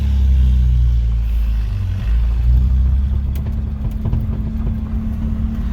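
A 1995 Ford F-150 with a 4.9 straight-six and straight-piped exhaust, driving with the window down, giving a loud, steady low engine drone and rumble that rises slightly under throttle.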